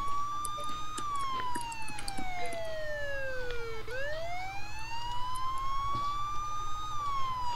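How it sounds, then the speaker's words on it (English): Police car siren in a video game patrol, a continuous wailing tone sweeping down then back up, loud and steady throughout with no talk. "turn off your siren."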